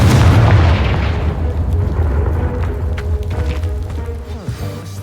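A Confringo spell explodes in Hogwarts Legacy with a loud, close blast that opens with a heavy boom and fades into a long rumbling roll, followed by a few scattered crackles.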